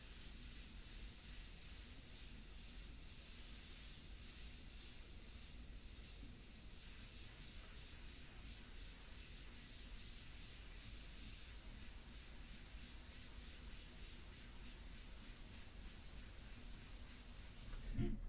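An airbrush sprays India ink onto a portrait at low air pressure, a faint, steady, close hiss that holds throughout with slight pulsing as the trigger is worked back and forth.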